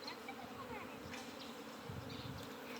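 A swarm of escaped bees buzzes steadily as a dense, continuous drone, faint and distant-sounding, with occasional louder passes of individual insects and a little background noise.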